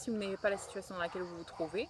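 Dogs barking in a forest, a quick series of five or six sharp, nearby barks and yips in an uneven rhythm, mixed with a person talking over them.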